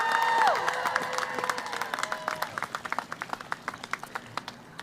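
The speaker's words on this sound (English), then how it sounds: "How about a big round of applause to all of the family members and guests?" Applause for family members and guests at a community college commencement, scattered distinct claps ringing out in an uneven rhythm at moderate distance, thinning over a few seconds after a fading tone at the start.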